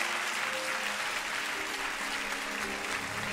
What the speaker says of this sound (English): Will you give God a hand clap of praise all over the room?